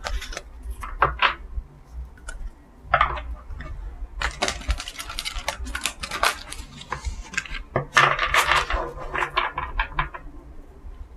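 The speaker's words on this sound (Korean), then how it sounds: "기혼인 분들 카드 뽑아볼게요." Tarot cards are shuffled and drawn on a table for a fortune reading, producing a string of close, crisp slaps, flicks and riffling clicks in irregular bursts with brief pauses between them.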